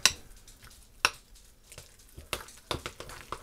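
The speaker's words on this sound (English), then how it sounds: "And just stir it up really well." Canned corned beef frying in a pan is stirred, with scraping clinks of utensil on pan and crackling sizzle in irregular bursts, close and moderately quiet.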